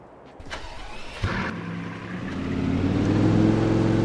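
A Ferrari car in Farming Simulator 22 starting up, a short crank followed by the engine catching and settling into a steady, rising idle rumble close by, with no talking.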